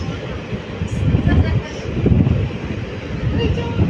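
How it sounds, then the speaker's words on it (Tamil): Wind rushes loudly and steadily past an open window of a moving passenger train in Tamil Nadu on a hot, sunny day, a continuous low buffeting roar. "இந்த வெயிலுக்கு காற்று ஓராடிக்குது"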